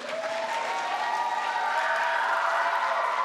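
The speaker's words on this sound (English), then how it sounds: "So another round of applause." Audience applause in a school chapel during a closing ceremony, a steady wash of many hands clapping, fairly loud and continuous.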